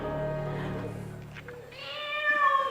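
A person imitating a tiger roar that comes out as a drawn-out cat-like meow, a single rising and wavering vocal cry, close and fairly loud.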